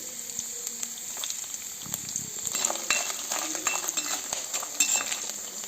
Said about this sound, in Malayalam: തേങ്ങാക്കൊത്തൊന്ന് നല്ലതുപോലെ മൂത്ത് വരട്ടെ